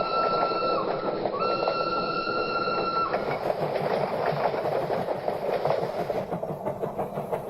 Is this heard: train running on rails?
yes